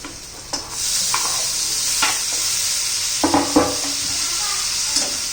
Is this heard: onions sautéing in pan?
yes